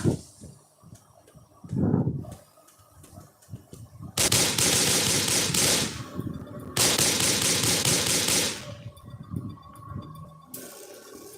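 Bursts of automatic gunfire in the horror game Darkest Day, two long, loud sustained volleys separated by quieter rustling and thuds, with another burst starting near the end.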